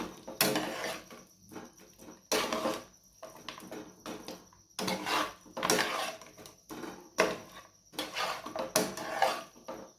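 Green chicken roast pieces being stirred into gravy in a metal pan, with repeated bursts of scraping and clattering utensil strokes separated by short pauses, close and fairly loud, with no talking.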